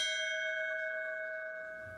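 A fire hall memorial bell is struck once, ringing with a clear sustained metallic tone that slowly decays, heard alone and fairly quiet.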